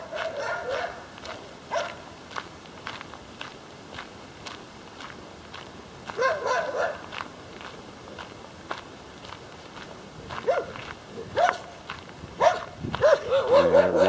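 Watchdogs kept as attack dogs bark with a howling, bloodhound-like tone at a property beside a Central Coast bush walking track, with repeated bursts close by, footsteps crunching between them and a brief voice.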